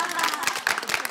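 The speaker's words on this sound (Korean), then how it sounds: "박수 한번 쳐줘, 박수." Applause from a seated audience at a senior citizens' lecture, a dense steady patter of many hands clapping close and fairly loud throughout, with no voices over it.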